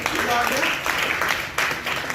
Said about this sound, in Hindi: एक जोरदार ताली बजाएं अपने लिए